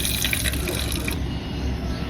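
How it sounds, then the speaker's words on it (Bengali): Water pours from a tap or vessel into frying oil in a kitchen pan, a continuous rushing splash that brightens and then settles into a steadier hiss partway through. "এখন সে ভাজা তেলে পানি দিয়ে দিব"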